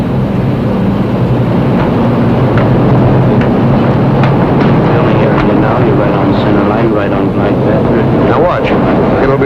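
An airplane on final approach to land, about one mile from touchdown and passing low over buildings, gives a loud, steady engine drone that fills the whole stretch, with faint voices under it.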